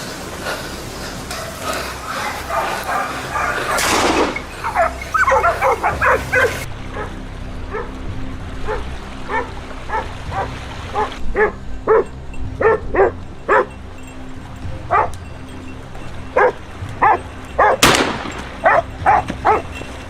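A pack of hunting dogs barks and yips repeatedly during a Texas hog hunt, the short barks coming in quick, irregular bursts. Some sharp loud cracks stand out among them.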